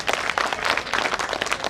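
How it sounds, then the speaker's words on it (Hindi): Enthusiastic applause welcoming guests at a Chhath Puja gathering, a crowd clapping in dense, slightly uneven bursts, close and lively throughout the short stretch. "जोरदार तालियों के साथ स्वागत कर दें"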